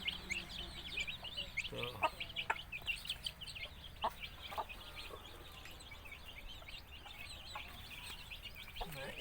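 A mother hen with her chicks clucks in a free-range backyard flock, repeated soft clucks and high peeping chirps scattered over the whole stretch, with a brief word spoken near the start.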